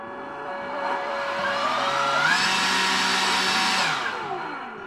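A Ridgid 18V cordless jobsite blower whines steadily up close, its motor pitch and loudness climbing as the throttle opens midway, holding a loud airy roar, then easing off near the end.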